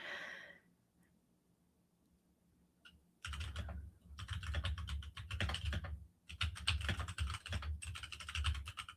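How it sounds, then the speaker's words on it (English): Bursts of typing on a computer keyboard, with close, rapid key clicks coming in several runs after a few seconds of near silence. "Just typing in how far away is Japan from Colorado."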